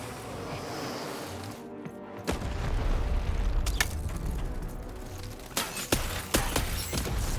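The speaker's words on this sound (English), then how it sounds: "Shoot the button to fire the cannon!" Cannon firing in Lost in Random, a sudden loud boom followed by rumbling debris and mechanical clatter, with sharper bursts and cracks near the end.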